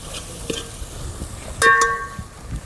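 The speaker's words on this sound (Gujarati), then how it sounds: "મિક્સ મસાલા કરી નાખીએ, હલાવી નાખીએ મસ્તીને." Mixed spice masala stirred in a cooking pan for an outdoor farm-style ringan oro (roasted aubergine) dish: soft scraping strokes and a brief louder clatter mid-way, over a light background sizzle.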